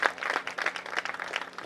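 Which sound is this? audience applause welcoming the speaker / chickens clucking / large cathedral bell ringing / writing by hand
audience applause welcoming the speaker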